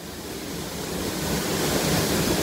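Tiger Falls waterfall at Chakrata in the Uttarakhand hills, a steady broadband roar of falling water, loud and constant, with no other sounds over it.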